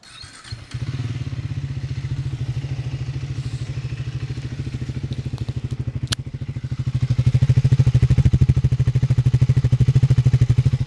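A Triumph Speed 400 motorcycle engine idles with a steady, throbbing exhaust pulse, then revs up louder toward the end; recorded up close with no talking.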